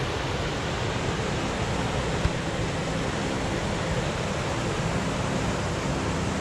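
A small waterfall at Ballysadare rushes steadily, a dense, even wash of falling water that holds unchanged throughout with no voices.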